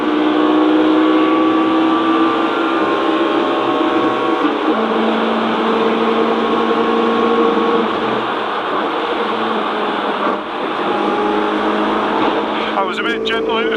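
Race car lapping Snetterton circuit in qualifying, heard from onboard: a loud, continuous engine drone with rising and falling gear tones, a brief dip near the end, then climbing revs again.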